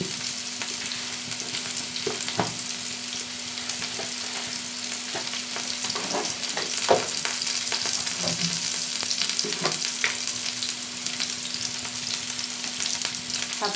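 Onions frying in a pan until reddish, giving a continuous close sizzle with a few scraping stirs and soft knocks scattered through it, no voices.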